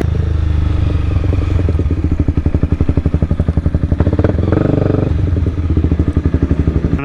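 A Honda CBR 250R motorcycle fitted with off-road tires rides on the road, its engine pulsing in a fast, even loud throb close to the mic, with clattering road noise and a brief dip in the middle.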